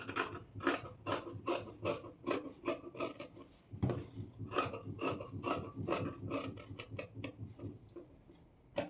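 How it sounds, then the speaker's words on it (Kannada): Scissors cutting the sleeve fabric of a blouse, a rapid string of crisp snipping rasps, close and fairly quiet, with a brief pause midway before the cutting resumes. "ಈಗ ಹ್ಯಾಂಡ್ಸ್ನ ಕಟ್ ಮಾಡ್ಕೊಳ್ತಾ ಇದ್ದೀನಿ"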